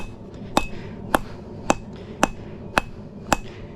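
A 3-pound hammer strikes a metal stick that is not yet hot enough, six sharp clanging blows at a steady, roughly half-second rhythm, loud and close over a low background rumble.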